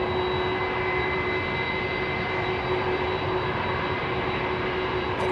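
An Icelandair jet airliner with Pratt & Whitney engines roars steadily at London Heathrow, a loud, constant broadband rumble with a faint high whine and no voices.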